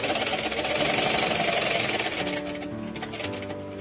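Sewing machine stitching fabric along a curved neckline, a close rapid mechanical rattle running steadily and then slowing slightly near the end, with no talk.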